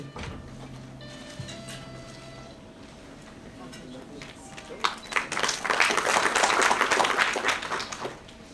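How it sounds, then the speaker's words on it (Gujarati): An audience at a municipal Good Governance Day event in Bhavnagar breaks into loud, sustained clapping for an MoU signing, rising after quiet murmuring and fading near the end. "આપણે સર્વે તાળીઓના ગડગડાટથી આ દરેક એમઓયુને વધાવશું"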